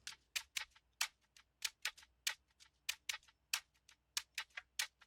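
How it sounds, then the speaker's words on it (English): A quiet shaker loop rattles in a quick, busy rhythm of bright shuffling hits with accented strokes, steady and alone. "And then this last shake loop also from my pack"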